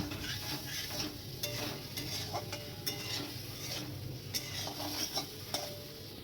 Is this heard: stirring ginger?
yes